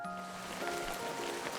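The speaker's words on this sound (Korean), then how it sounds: "하늘에서 비가 오고 있네요." Steady rain pouring down from the sky, a dense, even hiss of falling drops that holds unbroken throughout with no voices.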